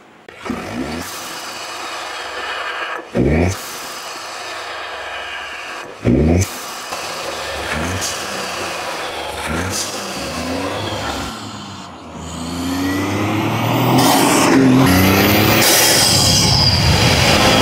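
A Toyota GR Yaris turbo engine fitted with a Max Racing intake revs repeatedly nearby, with rising and falling whooshing intake and turbo whine and short sharp bursts between pulls, building to a loud sustained roar.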